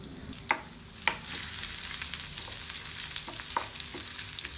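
Steady crackling sizzle of ginger, garlic and green chillies frying in hot butter, with a few sharp pops and stirring clinks throughout, close and fairly loud.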